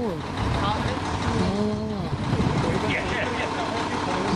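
Truck idling and pulling a trailer forward, a steady diesel rumble with a brief rising whine, heard close under people talking.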